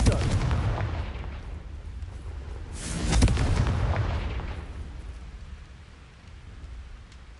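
A Confringo spell blast in the Hogwarts Legacy video game bursts out as a loud explosive boom near the middle, over a rumbling low backdrop that fades gradually afterward.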